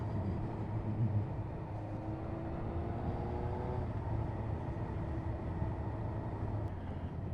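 A Suzuki GSX-R 1000 streetfighter motorcycle held in a medium gear, its engine a steady droning roar with a slight rise in pitch partway through, continuous and moderately loud throughout.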